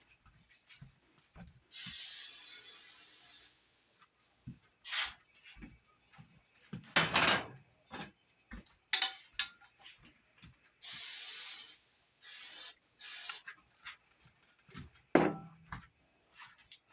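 Several bursts of cooking spray hissing onto taco salad shells in a home kitchen, each a second or two long, mixed with clattering of pans and utensils between sprays and no talk.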